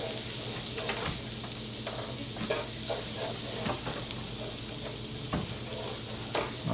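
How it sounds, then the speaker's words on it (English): Garlic sizzles steadily in a hot pan with continuous frying crackle and occasional stirring scrapes, close and moderately loud, no voices. "Now we're just going to let that come to a sizzle"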